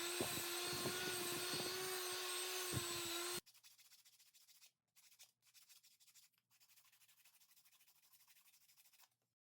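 A wooden push block handle is sanded, with about three seconds of loud, steady power-tool whir up close, then a muffled, intermittent rubbing that starts and stops in short stretches.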